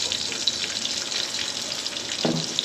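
Dried red chillies and crushed, chopped garlic frying in hot oil in a pan, giving a close, steady crackling sizzle with a brief utensil clunk near the end and no voices.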